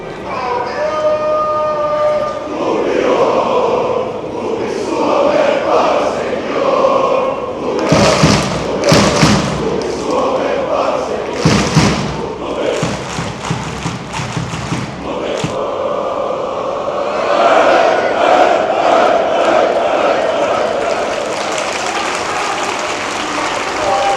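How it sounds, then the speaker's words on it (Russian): A football team and its ultras fans in a stadium applaud and chant together in a loud, sustained crowd roar with rhythmic clapping bursts and thumps, while a commentator talks over it. "Вместе что-то заряжают, аплодируют."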